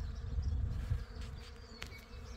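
Bees humming over a flowering rapeseed field, a steady low drone from many insects with a few faint buzzes passing closer, heard alone without talk.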